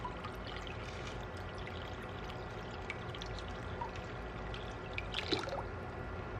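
Steady, continuous pour of RO water topping off a saltwater aquarium, a broad watery wash with a few small splashes near the end, fairly quiet and with no talking.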